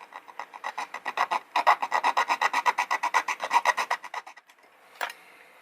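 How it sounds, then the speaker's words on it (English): A JLC razor saw cuts through a piece of very soft metal held in pliers, making a close, steady rasping rhythm of quick back-and-forth strokes that stops near the end, followed by a single sharp clink. "This is a JLC razor saw. This is very soft metal, it's very easy to cut."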